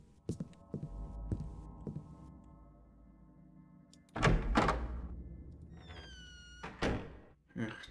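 Footsteps across creaky, noisy floors in the stealth video game Thief: a handful of dull, hollow thumps spaced irregularly over a low ambient hum, with a burst of louder clatter midway and a voice heard briefly.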